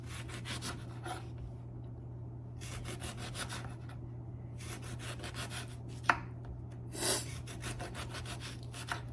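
A knife cuts food on a board in a home kitchen, making bursts of rhythmic scraping strokes separated by short pauses, close and fairly quiet over a low steady hum, with a sharp knock near the end.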